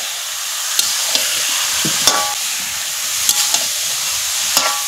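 Chicken and potatoes fry loudly in a pan, the sizzle a dense, continuous hiss, while a spatula stirs them with several sharp clinks against the metal.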